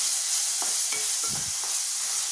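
Tomatoes sauté in a pan for a restaurant-style white peas gravy, a constant soft frying hiss with a few scraping stirs of a spatula and no voices.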